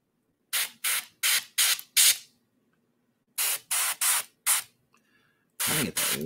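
An airbrush sprays paint in short hissing bursts, a quick run of five followed by a pause and then four more, each burst sharp and close with near silence between.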